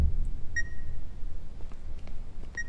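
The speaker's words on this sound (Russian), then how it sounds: "Это пикание, звук как будто доносится изнутри." In the video game The Beast Inside, a thin electronic beep sounds twice, well spaced, each a short high tone over a low, murky ambient rumble with faint scattered clicks.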